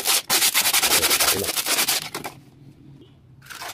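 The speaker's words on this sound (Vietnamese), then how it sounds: "Rồi tiếp tục mình dùng cái miếng giấy nhám nha cả nhà" Sandpaper rubbed back and forth over a coconut shell in rapid, loud scratchy strokes, close up. It pauses into quieter rustling and then starts again briefly.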